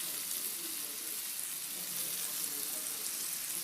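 Vegetables seasoned with salt and pepper sautéing in a pan for restaurant-style vegetable noodles, giving a steady, close, hissing sizzle that continues without a break and with no voices.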